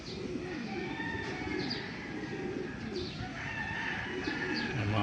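Racing pigeons coo steadily in a loft, soft repeated throaty calls layered over a constant bird chorus, with occasional chirps and a brief flutter of wings.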